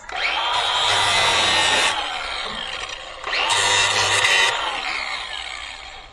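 A power drill grinds loudly into metal around a broken bolt in two long bursts with a short pause between, a harsh whirring bite up close.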